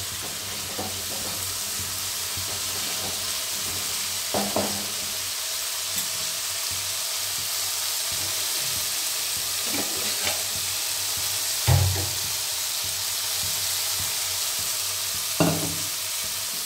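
Spices and vegetables sautéing in a pan, a steady low sizzle running throughout with occasional brief stirring clinks and knocks, no voices.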